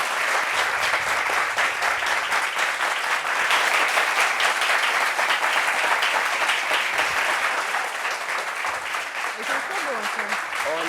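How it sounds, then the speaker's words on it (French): An audience applauds a couple arriving onto a podium at a gathering: sustained, even clapping that fills the whole stretch, with voices over it. "On applaudit pour eux, s'il vous plaît."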